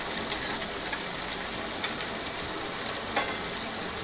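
Chopped onions fry in a pan for kanda poha, a continuous soft sizzle and hiss with occasional faint clicks of a spoon stirring, no voices over it.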